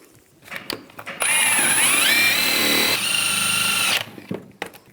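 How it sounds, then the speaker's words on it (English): A wire brush, apparently power-driven, scrubs rear brake parts on a 2014-2023 Jeep Cherokee with a loud, whining, rough grinding burst of about three seconds between quieter shop noise. "with a wire brush, we're just going to clean that up"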